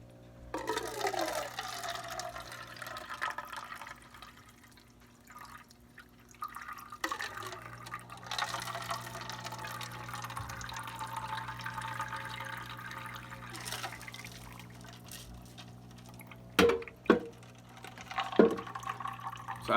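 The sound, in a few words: water draining through soil samples into cups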